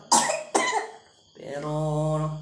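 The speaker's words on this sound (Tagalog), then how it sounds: "Inuubo at sa kalagnat." Two sharp coughs from a person suffering a cough and fever, close and loud, followed by a sustained voiced hum or throat sound.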